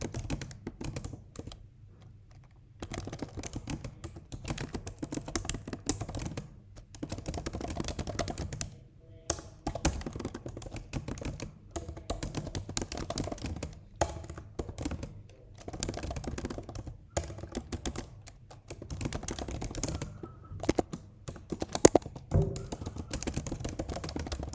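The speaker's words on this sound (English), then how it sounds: "you want to type it every single day, at least 20 to 30 times" Steady typing on a computer keyboard, close and fairly quiet, with rapid runs of clicking keystrokes broken by short pauses, alone without talk.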